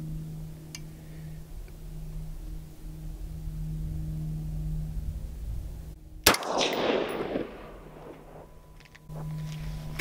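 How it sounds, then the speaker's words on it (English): A single loud rifle shot fired while sighting in a low-cost night vision scope for predator hunting, cracking out of a quiet humming background and trailing off in a rough, echoing tail. "So I'm going to take my first shot"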